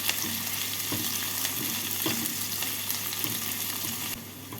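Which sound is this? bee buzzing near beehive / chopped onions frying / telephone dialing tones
chopped onions frying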